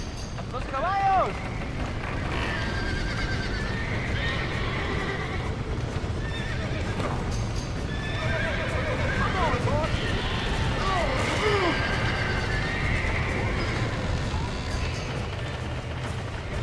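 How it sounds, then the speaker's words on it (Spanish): Horses whinnying and neighing in Red Dead Redemption gameplay, several high calls over a steady rumbling game soundscape with scattered hoof and mechanical noises, a player talking at times. "¡Los caballos!"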